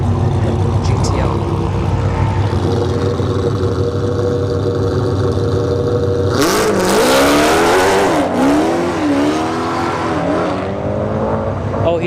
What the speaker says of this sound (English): It's 67 miles an hour for the GTO. Evo 10 goes 837 at 84 miles an hour.